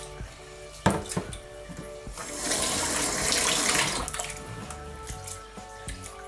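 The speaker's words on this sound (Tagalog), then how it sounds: "Ang una nating gagawin ay hugasan ang bigas." Glutinous rice being washed in water for puto maya, with a steady swishing and trickling of water that swells louder in the middle, plus a few sharp clinks of rice or a container near the start.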